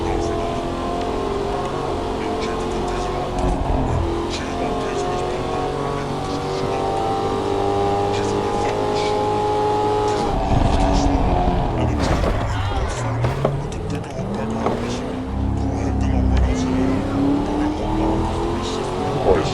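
Car driving in a video game: steady engine drone with rising and falling revs as the car accelerates and shifts, a rougher patch midway like tyres sliding, with people talking over it.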